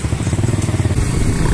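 Motorbike engine running nearby, a loud, steady low chugging thrum with a fast, even pulsing beat that carries on without a break.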